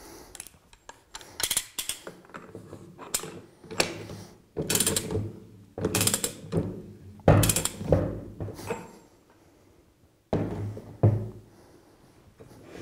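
A hand ratchet retorques the single nut on a Flotronic one-nut air-operated double diaphragm pump, giving repeated short bursts of clicking pawl strokes in uneven rhythm, close and fairly quiet, with pauses between sets.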